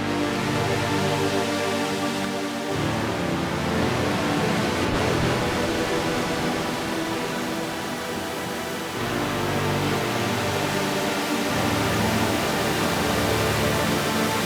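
A frozen, pitched-up reverb tail produced in Ableton with an echo feedback loop drones as a loud, dense sustained wash, its tone shifting slightly partway through before settling back.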